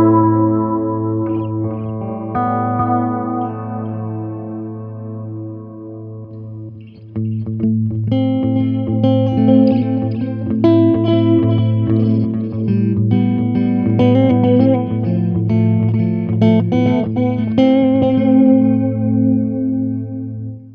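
Electric guitar through a TC Electronic delay pedal, sustained chords and single notes ringing out with layered repeats and a lush, spacious wash, steady and fairly loud with no voices.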